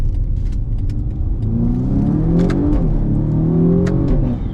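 A car pulls away hard from a green light at a city intersection, its engine revving up loudly and close with rising pitch as it accelerates, no talking.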